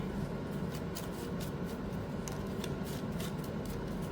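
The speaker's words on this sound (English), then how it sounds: "I'm shuffling this and you're watching this part of the reading" Tarot cards being shuffled by hand during a card reading, a steady run of soft papery riffles and flicks close to the microphone, continuous throughout with no talk.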